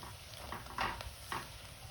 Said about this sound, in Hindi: दोनों चीज़ें डाल के इसको थोड़ा सा फ्राई करते हैं।